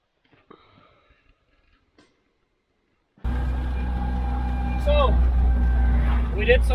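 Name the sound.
Jeep driving on a test drive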